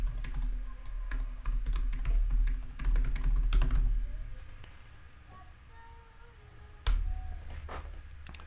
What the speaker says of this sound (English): The email, I'll type it in here.